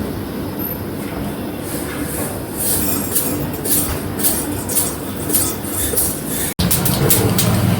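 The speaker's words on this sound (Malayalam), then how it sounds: "കടുക് നല്ലപോലെ പൊട്ടുന്നുണ്ട്." Mustard seeds pop in hot oil with dense, crackling bursts over a continuous loud sizzle that grows busier midway, with a brief dropout near the end.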